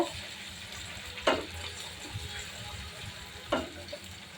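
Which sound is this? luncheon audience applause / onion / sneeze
onion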